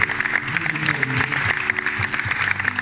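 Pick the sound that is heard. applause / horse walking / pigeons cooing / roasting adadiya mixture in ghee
applause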